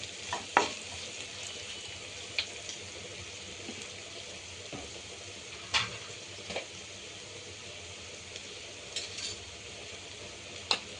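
Chicken samosa filling with turmeric fries in a pan, a steady low sizzle broken by sharp scraping strokes of a spoon stirring at irregular intervals.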